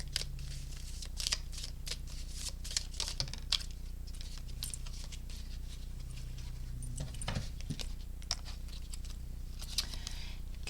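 Tarot or oracle cards being drawn and handled for a pick-a-card reading, a quick run of close, crisp slaps, flicks and sliding shuffles with an irregular rhythm over a low steady hum.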